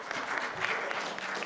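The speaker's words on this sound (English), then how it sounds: "can we have an applause for the passionados here?" An audience applauds at a health-policy meeting, a dense, steady patter of many hands clapping at even loudness for the whole short stretch, with no voices over it.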